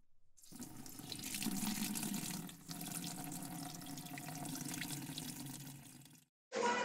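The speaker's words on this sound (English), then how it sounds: "I want you to pour some of this water in this bottle." Water pours steadily from a container into a bottle for a homemade solution in a kids' chemistry experiment, a continuous splashing stream lasting several seconds, close and fairly quiet, with a brief pause and a final short burst.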